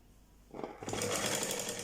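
A sewing machine starts up and stitches continuously close to a trouser pocket, rising from quiet into a steady whirring run that lasts just over a second.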